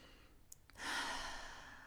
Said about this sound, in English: Taking a deep inhale into your body.